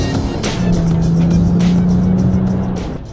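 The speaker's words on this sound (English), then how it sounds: "Lay the throttle down, it just goes" A 2009 Honda Pilot Touring accelerates at full throttle, its engine droning loud and near in a rising, sustained roar that fades slightly toward the end.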